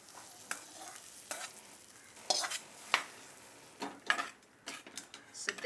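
Sri Lankan potato curry in thick coconut milk with red and green chilies and curry leaves sizzles and crackles in a pan, with soft irregular bubbling pops and occasional stirring scrapes, close and fairly quiet, no talking.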